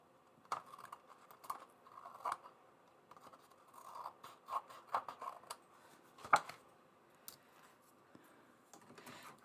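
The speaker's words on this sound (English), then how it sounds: "So now I'm going to trim." Paper for a spring scrapbook page is trimmed, with soft intermittent snips and scraping strokes, quiet and close, spread irregularly across the stretch.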